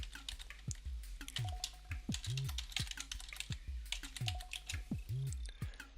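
Steady typing on a computer keyboard, a close run of crisp clicks and taps with a few heavier thumps, continuous and alone with no speech.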